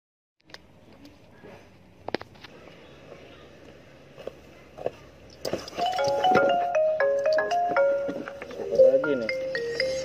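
A few faint clicks and handling noises come first, then a phone ringtone plays a clear, repeating stepped melody, loud and close, continuing to the end.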